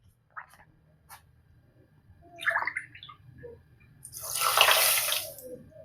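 Water poured into a pan of sugar to make syrup for a khaja sweet, a broad splashing pour swelling near the end after a few short drips and clinks, close and fairly loud with no talking.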